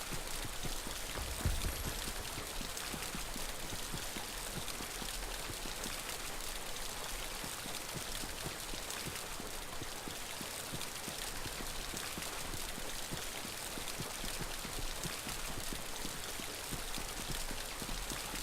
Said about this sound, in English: Stay warm from the rain.